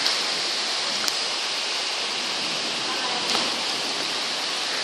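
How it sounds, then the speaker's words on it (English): Heavy rain from a hurricane thunderstorm pours in a dense, steady hiss, continuous and close, with a couple of faint clicks in the downpour. "it is raining"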